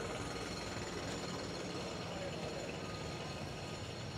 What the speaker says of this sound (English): My man is still drilling the road up there